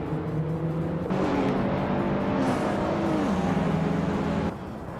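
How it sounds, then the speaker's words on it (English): A 1983 Porsche 911 racing car engine drones loud and steady, its pitch rising and then falling as the car passes close by, with the roar swelling from about one second and dropping away near the end. "Orange Funk is driving a 1983 Porsche"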